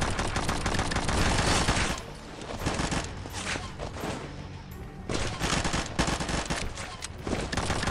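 Gunfire in the shooter game Combat Masters, loud rapid automatic bursts and volleys of shots in dense clusters with brief lulls between, close and continuous across the clip.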